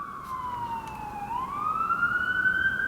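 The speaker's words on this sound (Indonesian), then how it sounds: "ada polisi, ada sirine." A police siren wails steadily, its pitch sliding down and then rising again, fairly loud and close with a faint rumble of traffic beneath.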